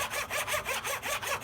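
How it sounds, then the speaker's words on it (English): Hand saw cutting a fret slot in wood for a multi-scale fretboard, about seven even back-and-forth strokes in a steady rhythm, close and fairly quiet. "So I can go ahead and just use the weight of the tool and start sawing."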